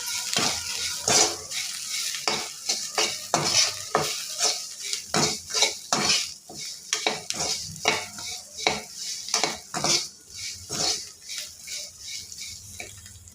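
Okra pieces with turmeric are stirred and fried in a pan, with repeated scraping strokes of a spoon in an uneven rhythm over a low background sizzle, up close and fairly loud.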